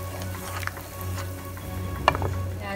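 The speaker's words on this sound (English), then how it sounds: "at this time I'm going to add the tomato paste" Goat curry with softened meat sizzles steadily in a pot as tomato puree goes in, a continuous frying hiss with brief scraping and stirring clatter, fairly close and with no talking.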